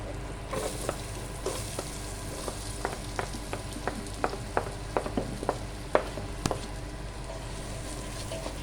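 Onion sautéing in a pan with a steady sizzle, punctuated by a series of sharp taps and scrapes of a spatула stirring at a fairly even pace.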